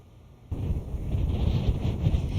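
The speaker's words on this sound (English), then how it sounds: "As you can tell, it is already pretty windy." Strong wind from a tropical storm gusting at a coastal town, a broad roaring rush that surges in after a quiet half second and stays loud and close, buffeting the microphone.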